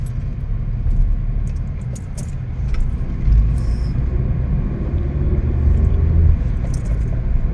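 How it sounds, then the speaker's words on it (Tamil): A lorry approaches on a winding hill road, heard as a loud, steady, close engine rumble with road noise throughout. No voices. "இப்போ பார்த்தீங்கன்னா லாரி வருது"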